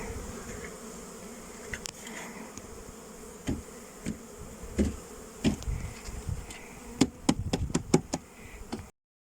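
Honey bees hum around a new hive as they are moved in from a nucleus box, a low steady buzz broken by wooden knocks and taps that grow more frequent toward the end.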